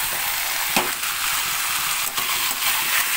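Sugar fries in a pan, a close, steady sizzle with a few short stirring scrapes and clinks over about three seconds, with no voices.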